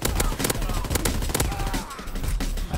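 Rapid automatic gunfire in Call of Duty WWII, fired from the hip in bursts, with dense loud cracks that repeat over nearly the whole span.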